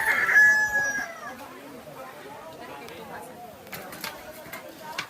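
A rooster crows at the start, loud and drawn out, followed by background chatter and scattered bustle in Hanginan, Maasin City.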